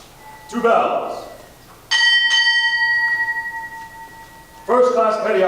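Two strikes of a ship's bell ring out at a Navy retirement ceremony, a close pair with a sustained decaying tone, between spoken announcements.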